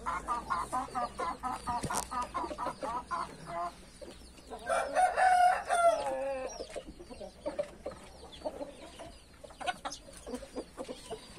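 A samurai rooster crows once in a backyard poultry flock, the call rising clearly over a background of hens clucking and scattered farmyard noise.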